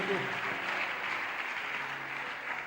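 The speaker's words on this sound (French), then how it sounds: "Est-ce que quelqu'un peut applaudir très fort pour la gloire du Seigneur?" A church congregation breaks into sustained, dense applause, a steady wash of clapping from many hands filling the room for the whole stretch, with a faint murmur of voices underneath.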